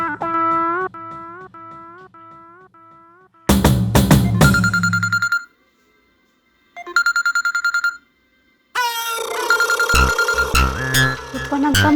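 A phone plays a rhythmic run of keypad-like tones, then loud ringing bursts sound with short silent gaps between them, ending in a dense, electronic-sounding ringtone.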